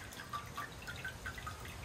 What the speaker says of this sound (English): The water feature is so nice.